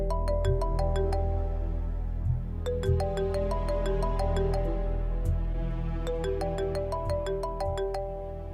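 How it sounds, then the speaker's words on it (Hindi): A phone ringtone plays a repeating melodic pattern of bright tones in bursts, continuing steadily for several cycles with no talking. "बहुत देर से फोन बज रहा है, अटेंड क्यों नहीं करती हो?"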